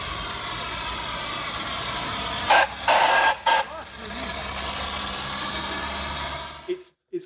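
A steady broadband hiss from a coal-fired steam car runs alongside an engine's low idle, broken by a few louder bursts of venting steam, then cutting off abruptly near the end.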